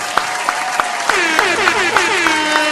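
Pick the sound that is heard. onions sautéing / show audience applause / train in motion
show audience applause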